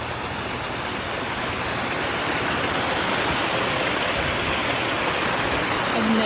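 Floodwater pours out of farm sheep pens in a loud, continuous rushing roar, steady and close, with no voices over it.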